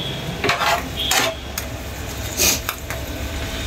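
Lobsters are turned over in a frying pan with a few sharp metal scrapes and clanks of a utensil against the pan, over a low background sizzle, close and brief, no talking.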